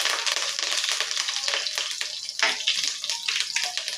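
Urad dal, cumin seeds and curry leaves fry in hot oil with a dense, continuous crackling sizzle at close range, and a sharper spatter bursts out midway.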